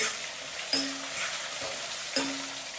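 Onions fry in a pan with peanuts, a steady close sizzle broken by two sharp clinks of a utensil striking the pan, with no talking.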